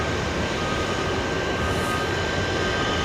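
Emirates A380 airliner at Boeing Field giving a loud, steady, broadband engine roar that fills the whole stretch with no breaks.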